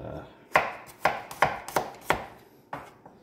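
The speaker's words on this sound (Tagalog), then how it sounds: "so yung bawang hiwain nyo lang siya ng maliit na ganito" A knife chops garlic finely on a cutting board, with six or seven sharp, close knocks in an uneven rhythm. The chopping is heard alone, with no talking.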